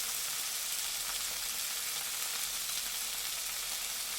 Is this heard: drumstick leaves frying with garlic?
yes